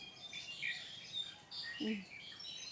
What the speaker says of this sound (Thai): เสียงนกเจอแสงแดดใช่ไหม